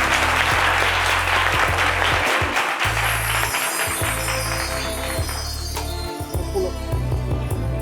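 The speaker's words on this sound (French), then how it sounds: "Avec vos applaudissements, s'il vous plaît." A large audience applauds at a formal French award ceremony as an honoree is invited up to a stage; dense, loud clapping fills the whole stretch with light clinking, with music playing underneath.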